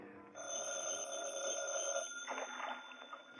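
A telephone rings in a detective's office, a steady electric bell tone sounding on its own with no voices over it.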